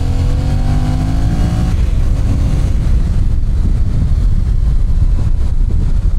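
A 2023 Yamaha MT-07 motorcycle with about 75 horsepower accelerating, its engine note rising in pitch for a couple of seconds before settling into a loud, steady rumble with wind noise. The sound is close and continuous, with no talking.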